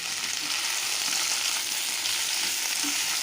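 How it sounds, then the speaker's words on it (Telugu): Sliced bitter gourd fries in hot oil for kakarakaya fry, a close, steady crackling sizzle with faint stirring taps, continuous and unbroken with no voices. "ఆయిల్ కాగిన తర్వాత కాకరకాయ వేసి ఫ్రై చేసుకోవాలి"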